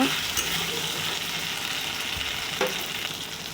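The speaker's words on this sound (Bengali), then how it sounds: "তেজপাতা দিলাম, টমেটো দিলাম, দিয়ে ভালো করে কষিয়ে নেব" Tomato and bay leaf sautéing in a pan for a banana-stem curry, giving a steady broadband sizzle with a couple of brief stirring scrapes, fairly close and without talk.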